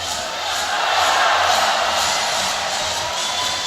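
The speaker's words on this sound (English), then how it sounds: "The crowd here enjoying some courtside entertainment" Spectators in a basketball arena at an ABL finals game roar during a timeout, a broad, loud wash of crowd noise that swells and sustains with scattered whoops.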